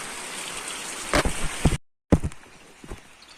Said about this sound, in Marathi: आता परत पाऊस पडायला सुरुवात झाल्या भरपूर